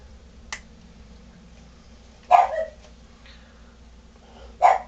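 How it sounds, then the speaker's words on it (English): Dogs bark in a home kitchen during pizza making, with two short sharp bursts a couple of seconds apart over a quiet room hum. "Yes, I have dogs."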